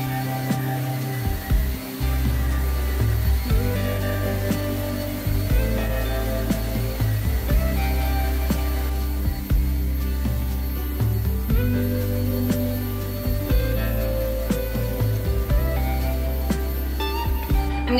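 Vacuum cleaner running on carpet, a continuous droning motor hum with bumps and shifts as it is pushed along, close and steady.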